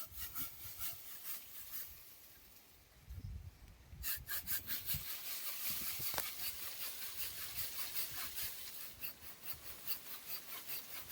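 Hand saw cutting through mango tree branches during orchard pruning, with steady back-and-forth rasping strokes that pause briefly, then resume in a fast, even rhythm, close up.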